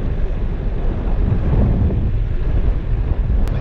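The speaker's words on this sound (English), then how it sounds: "we have a west wind today blowing out" A west wind blows over a boat at sea during shark fishing, a steady low rumbling buffet against the microphone with no clear pauses.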